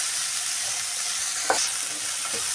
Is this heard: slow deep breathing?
no